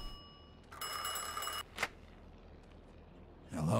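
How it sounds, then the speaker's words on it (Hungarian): An old telephone in a crime video game set in 1951 rings once in a bright, buzzing burst of just under a second, followed by a brief click and faint room ambience. "Telefon."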